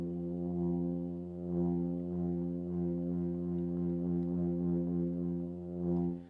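Soft surges from a solo brass sample library: a sustained held brass tone with gentle, slow swells in volume, played alone at a quiet level.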